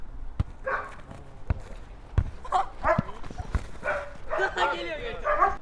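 A dog barks several times in short bursts nearby during a keep-away game while someone talks over it, with occasional sharp thuds in between.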